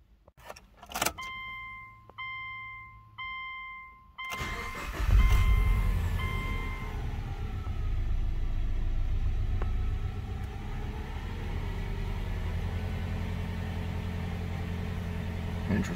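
A Subaru Outback XT with a swapped EJ20X engine sounds a few electronic chime tones, then cranks and fires up at about four seconds. It settles into a loud, steady idle rumble that continues to the end.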